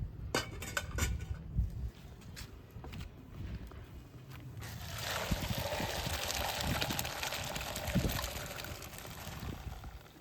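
Water from cooked rice pours out of a pot for a biryani made in a village kitchen, a steady rushing splash that swells in after a few clinks and faint knocks and continues to the end.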